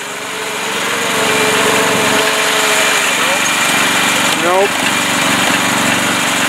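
A small Mastercraft lawn tractor engine with turf saver tires labors while stuck in mud, a steady droning hum that revs and rises in pitch partway through, with a brief spoken word over it.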